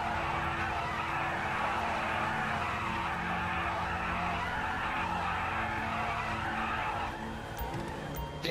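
A car launches hard in Grand Theft Auto V online street racing, tires squealing and skidding continuously under a loud revving engine for several seconds before the screech eases off.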